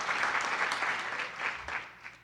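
An audience applauds guests recognized at a college's state-of-the-college event, a dense steady clapping from a room full of people that fades slightly toward the end.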